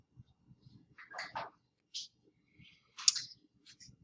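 Sharp computer mouse clicks while navigating a Canvas course page, a few quick separate clicks spread over a few seconds with light background noise.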